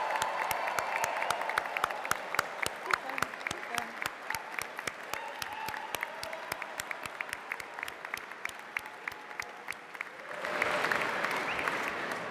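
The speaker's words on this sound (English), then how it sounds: "I want to hear you whooping and cheering and clapping" Audience whooping, cheering and clapping in an abbey, a long sustained burst of rapid rhythmic claps with cheers over the top, swelling into a louder roar near the end, heard from some distance in a reverberant space.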